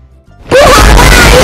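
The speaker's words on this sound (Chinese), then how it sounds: "不好啦，又打雷下雨啦" A sudden, loud thunder crash bursts in after a quiet moment and rumbles on steadily, heard over a golf course in a children's animated adventure.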